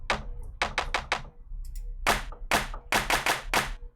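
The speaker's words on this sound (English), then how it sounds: "let's do a hand clap 2" Hand clap drum samples played in Pro Tools, loud and close, in short irregular bursts of single and doubled sharp claps with brief gaps between them.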